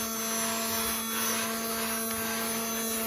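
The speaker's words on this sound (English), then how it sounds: "The old Zamboni vacuum, my favorite." A vacuum cleaner runs steadily throughout with a loud, constant motor whine and airflow hiss, no voices over it.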